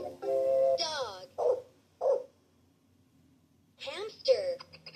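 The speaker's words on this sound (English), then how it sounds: "Dog." A dog from a children's sound toy barks and whimpers in a few short yelps and whines separated by brief pauses, close and clear, with a voice heard around the sounds.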